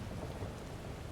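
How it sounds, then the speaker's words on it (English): A steady, dense wash of storm rain with low thunder rumble in Final Fantasy XIV Dawntrail, heard near a dock and cabin, continuous and fairly full with no voices. "We're in for a proper storm, it seems"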